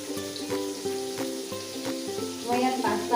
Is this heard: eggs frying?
yes